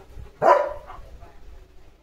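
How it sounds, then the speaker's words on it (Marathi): Leo, a German Shepherd, lets out a single loud, deep bark close by, with a short fading tail, in an otherwise quiet outdoor setting. "कसला आवाज आहे लिओ तुझा. कसला डेंजर भुंकतोस तू."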